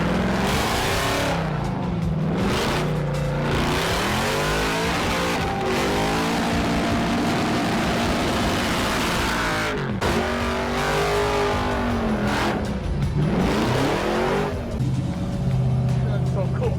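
A rat rod wrecker engine revs hard to full RPM, rising and falling in repeated loud sweeps, with people talking over it.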